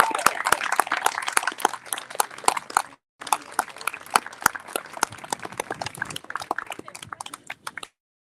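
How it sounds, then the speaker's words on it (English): An audience at a 2023 State of the District awards event claps for the Community Partners of the Year. The dense, sustained applause breaks off for a moment, then resumes and fades out. "give them another hand of applause for the great work that they do"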